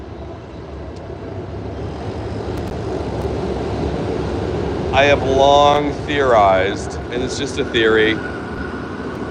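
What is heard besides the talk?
subway train rumbling beneath a street grate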